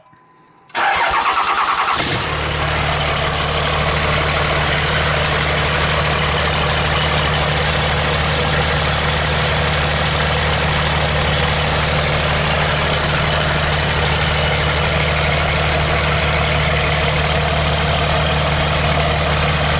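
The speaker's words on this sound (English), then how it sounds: "So Trapper, you gonna crank it?" A 2003 Cummins 5.9 diesel with a Garrett turbo cranks briefly, fires and settles into a loud, steady, close idle that runs unbroken for the rest of the clip with no talk.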